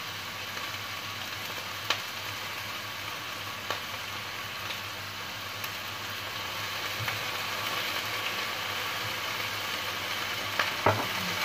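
Steady sizzling of a stir-fry with soy sauce in a pan, heard continuously up close, with occasional scrape and clink of the utensil as it is stirred.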